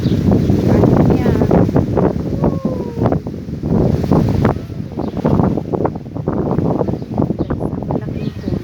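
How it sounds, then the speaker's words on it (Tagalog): Strong wind gusting through a sandstorm around an outdoor swimming pool and a large tree, roaring as steady broadband buffeting across the microphone, with someone talking over it throughout. "Lakas ng hangin guys."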